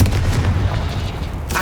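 A Confringo fire spell goes off in the Hogwarts Legacy video game, a single deep booming blast that rumbles on briefly, with a sharper hit near the end.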